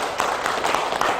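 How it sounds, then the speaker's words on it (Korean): An audience at a Korean talk gives a short burst of applause, steady and moderately loud, with dense clapping that has no distinct individual claps. "네, 박수 한번 보내주시죠."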